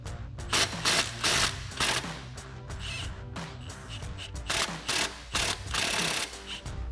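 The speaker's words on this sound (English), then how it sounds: "we're going to start out by removing this outer bolt here on the camber arm using our 18mm socket and an 18mm wrench." Ratcheting of an 18mm socket wrench working loose the outer bolt on the rear upper camber arm of a 2011-2023 Dodge Charger, heard as bursts of quick mechanical clicking with metallic clanks in between, close up and with no talk.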